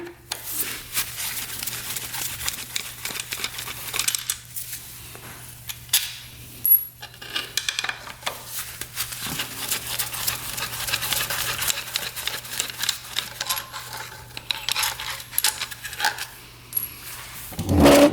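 Bolts are removed from the engine cover of a 2-stroke triple motorcycle and dropped, with repeated small metallic clicks and clinks over a low steady hum, close and fairly quiet; no talking.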